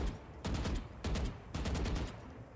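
A Vandal rifle with a Battle Pass skin fires in Valorant in three short automatic bursts separated by brief pauses. Each burst is a quick, punchy rattle of rapid shots, close and alone.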